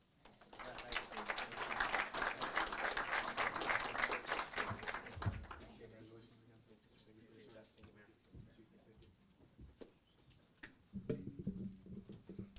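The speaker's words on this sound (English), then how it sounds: "One more round of applause for Deputy Moran, please" A crowd at a city council meeting claps in a dense burst that fades after a few seconds, followed by scattered quieter sounds and a voice speaking.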